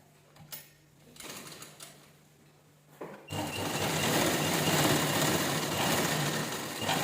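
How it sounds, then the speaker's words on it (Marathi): A sewing machine stitches cloth to make a mixer cover from leftover blouse fabric. Short faint bursts of stitching come first, then a loud, steady whir of continuous stitching runs close by with no talking. "तर व्यवस्थित आपण शिलाई करून घेऊया चला"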